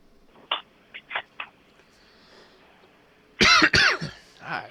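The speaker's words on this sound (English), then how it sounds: "God, I gotta quit frickin' coughing." A man coughs in short bursts during a motocross podcast: a few light, spaced coughs first, then a pair of loud, harsh hacking coughs close to the mic, followed by a softer throat-clearing cough.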